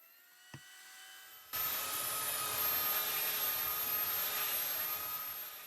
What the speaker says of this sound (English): Then I hit it with the belt sander for just a quick sanding to knock out any imperfections